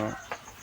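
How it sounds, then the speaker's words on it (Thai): A brooding hen sitting on eggs in front of a rural rice granary gives two or three short clucks in quick succession, close by and brief. "อ๋อไก่กบไข่ข้างหน้ายุ้ง"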